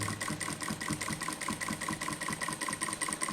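A sewing machine stitches the placket of a round-neck front-button nighty, running in a fast, even train of mechanical clatters close by.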